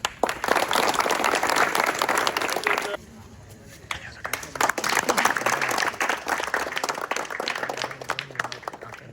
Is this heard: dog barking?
no